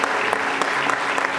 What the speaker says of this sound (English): So again, one more applause for Ms. Felder.